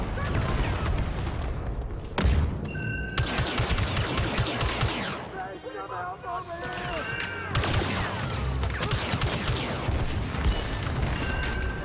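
Star Wars Battlefront 2 gunfire: dense, continuous bursts of blaster and rapid machine-gun fire with heavy booms, loud and near throughout, with a brief lull in the middle and voices talking over the action.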